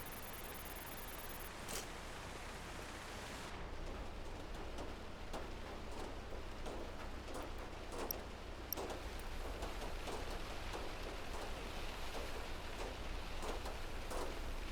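Hail storm in the video game Outbrk: steady pattering hiss of falling hail with scattered sharper clicks and taps as stones strike nearby surfaces, continuous for the whole stretch, no voices.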